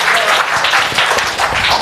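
An audience at a Jeevan Vidya introductory camp session in a hostel hall in Bhilwara claps loudly and continuously, a thick wash of nearby applause lasting under two seconds.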